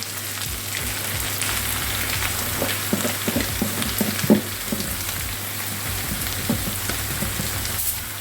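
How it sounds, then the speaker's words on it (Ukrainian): Carrots tossed into a pan of softened onions, sizzling and crackling steadily in hot oil with scattered pops and stirring scrapes, close and continuous, no talk over it. "Тепер у нашу ось таку підв'ялену цибульку додаємо морку."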